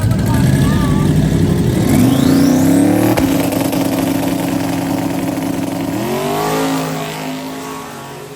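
A drag racing car in a bracket race launches hard off the line, engine roaring loud and close, then revving and pulling away as the pitch climbs and the sound eases off.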